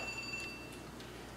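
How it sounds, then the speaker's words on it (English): A phone rings in an artist's studio during an oil painting demonstration, a faint, brief electronic ring of a few high, steady tones at the start that fade into quiet room noise. "there's my phone ringing, of course."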